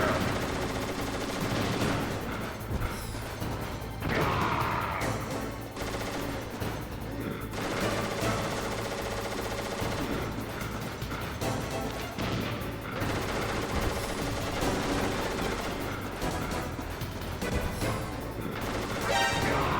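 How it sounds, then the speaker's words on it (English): Sustained bursts of gunfire from shooting in the video game Metal Gear Solid during a boss fight, dense and continuous over game music and effects for the full stretch, loud and close throughout. "I get these to drop by shooting them"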